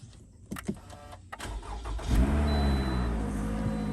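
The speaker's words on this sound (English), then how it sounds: "all right, the car is running" A 2018 Toyota RAV4 engine cranks and catches at about two seconds, then settles into a steady, loud idle close by after a few brief clunks.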